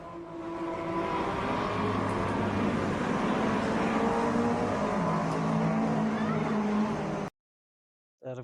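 Japanese classic cars race flat out at a historic race meeting at Tsukuba, giving a loud, steady engine roar that holds for about seven seconds before cutting off abruptly.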